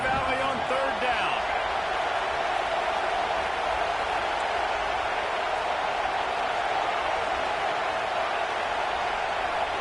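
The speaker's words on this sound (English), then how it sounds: "Here comes the noise from this big crowd in Happy Valley on third down." Stadium crowd at Happy Valley on third down in College Football 26, USC at Penn State, roars as a dense, steady wash of noise that holds loud and unbroken throughout.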